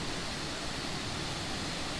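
Foster Falls, a waterfall on the Fiery Gizzard Trail, roars as a steady, broad wash of falling water heard up close, with no voices.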